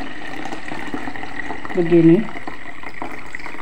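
Setawar Hutan root decoction being poured from a big cooking pot, a brief gurgling splash of liquid at close range, with a voice speaking quietly nearby.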